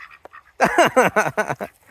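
An adolescent emu kept as a household bird gives a loud series of about six rapid honking, grunting calls, close up and alone.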